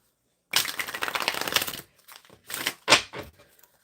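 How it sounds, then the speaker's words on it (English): A deck of tarot cards is shuffled close by: one long rustling, flicking burst, then several shorter snaps and riffles as the cards settle. "Let me put these cards back in and give it a good shuffle."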